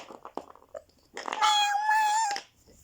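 A high, drawn-out kitten meow rings out loud and close for about a second, following a stretch of quieter voices and rustling.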